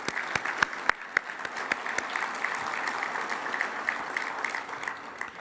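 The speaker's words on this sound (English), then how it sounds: "Please help me in giving them a round of applause." A round of applause from a conference audience at an association's state-of-the-association meeting, steady dense clapping with a few sharper claps standing out, moderately distant and continuous throughout.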